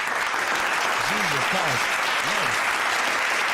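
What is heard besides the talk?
applause for podcast sponsors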